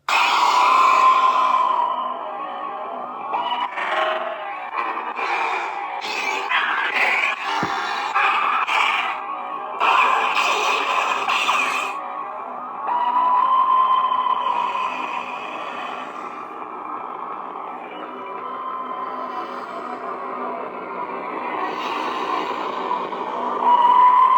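A neopixel Bane-style lightsaber with a loud soundboard hums steadily, broken by bursts of clash and swing effects in the middle, then settles back to a sustained hum, alone and fairly loud.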